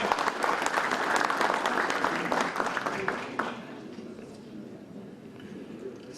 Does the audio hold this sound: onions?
no